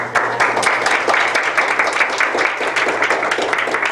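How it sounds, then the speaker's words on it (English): A seated audience gives a round of applause at the close of a teaching talk, a dense, steady wash of many hands clapping that stays loud and even for the whole stretch. "let's give a round of applause"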